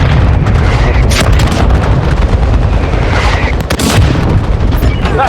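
Mortar strike explosions in the Warzone Mobile battle royale crash through a squad match, a loud, dense run of booms and sharp cracks rolling continuously over several seconds.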